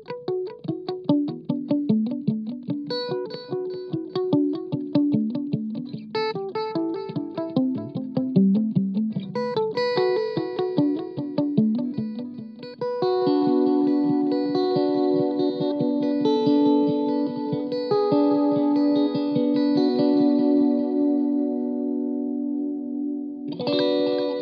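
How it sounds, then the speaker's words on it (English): Blackstar Silverline guitar amplifier running a modulated delay, with chorus-like wavering repeats trailing after played guitar notes and chords, growing into a thick, sustained wash in the second half before a final strum, loud and steady with no talking. "this is delay number three, it's a modulated delay"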